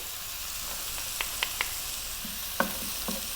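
Chopped onion and a few cloves of garlic fry gently in a pan on fairly low heat for creamy mushroom chicken, a soft continuous sizzle broken by a few light taps and scrapes of a utensil.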